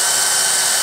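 A power drill with a dull bit runs continuously, a loud, steady high-pitched whir filling the short moment, close by, during work on a Yamaha 100 Trailmaster crankshaft seal replacement.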